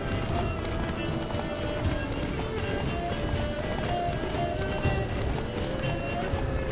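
Geralt's horse gallops in The Witcher 3: Blood and Wine, a steady, dense drumming of hooves running continuously under game ambience and low music.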